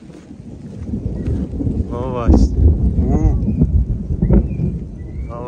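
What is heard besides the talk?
thunder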